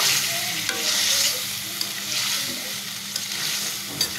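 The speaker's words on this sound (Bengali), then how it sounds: "ইলিশ মাছগুলো দিয়ে আমি সাথে একটু নাড়াচাড়া করব" Hilsa fish pieces sizzle in spice paste with a little ground cumin as a spoon stirs them, a steady close hiss with gentle scraping and occasional light clicks of the utensil.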